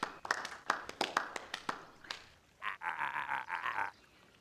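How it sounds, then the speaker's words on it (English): Sparse applause in the video game Beacon Pines: a handful of separate claps over about two seconds, followed by a sustained, wavering tonal sound that resembles bleating. "So I thought we could begin with a round of applause befitting such a great man."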